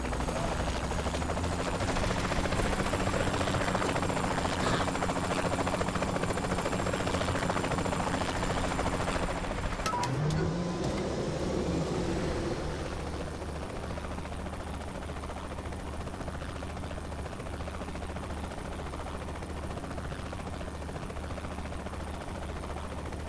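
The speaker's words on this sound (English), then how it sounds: "Where's that guy in the helicopter going?" A helicopter in Saints Row: The Third Remastered drones steadily with its rotor roar, mixed with bursts of gunfire, then fades and thins after a sharp transient midway.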